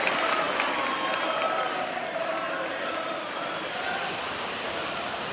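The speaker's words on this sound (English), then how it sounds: "It wasn't applause, it was rain belting down onto the roof of the stand" Heavy rain hammering on the roof of a rugby stadium stand, a dense, loud, unbroken roar that barely varies from start to finish, with faint crowd noise mixed underneath.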